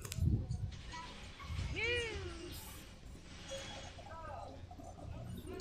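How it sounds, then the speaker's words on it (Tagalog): A black cat meows once, a short rising-falling cry, with a fainter second meow later, amid background noise and clattering at a construction site. "may pusa din dito"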